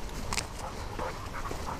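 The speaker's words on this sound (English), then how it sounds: "Bloody dog." A dog gives a brief, faint bark or yip amid outdoor background noise, over in a moment.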